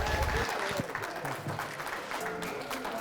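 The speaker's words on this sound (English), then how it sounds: "round of applause for David James." An audience applauds David James as he is introduced, steady clapping from a crowd with voices mixed in beneath it.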